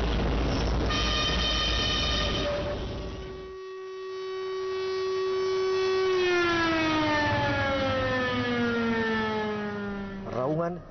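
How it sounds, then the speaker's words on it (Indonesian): A long city civil-defense siren in Sawahlunto, Indonesia, wails steadily in the morning, then its pitch slowly winds down, echoing across open distance before a brief rising sweep at the end. "Raungan sirene kota di pagi hari mengiringi matahari yang merangkak naik dari puncak-puncak Bukit Barisan."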